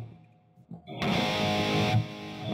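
An electric guitar runs through a Kemper profiler with a delay effect switched on, driven chords ringing out with distorted sustain and trailing repeats.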